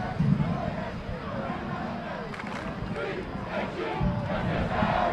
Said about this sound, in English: Got a big crowd here tonight, Frank.